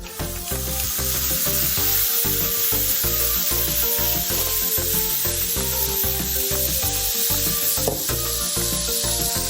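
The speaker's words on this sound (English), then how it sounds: "So I just put maybe a teaspoon of oil in my non-stick pan, and I'm just gonna fry this up." Beef ravioli filling fries in about a teaspoon of oil in a non-stick pan, a steady close sizzle with rhythmic scraping strokes of stirring running throughout.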